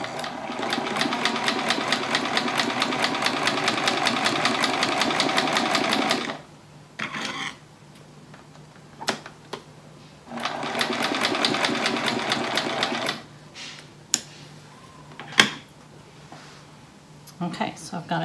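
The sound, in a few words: sewing machine stitching a quilt triangle with a quarter-inch seam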